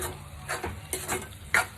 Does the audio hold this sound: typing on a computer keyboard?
no